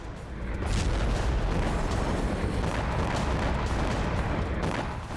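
A continuous roaring rumble of distant blasts from a drone attack, heavy low booms blending into a sustained loud din.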